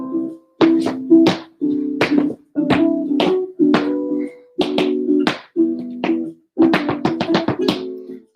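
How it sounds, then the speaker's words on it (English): A recorded song plays for tap dance practice, with short rhythmic bursts of sharp percussive hits over steady tonal notes, fairly loud and close, with no voices. "So the song sounds like this."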